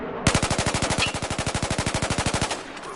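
A carbine rifle in Battlefield 4 fires a long, steady full-auto burst on a shooting range, about thirty evenly spaced loud shots in quick rhythm before stopping abruptly, with no talk over it.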